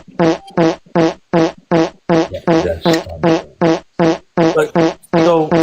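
Farts play in a rapid, evenly spaced series of about a dozen loud, buzzy bursts, each short and tonal, with brief silences between them.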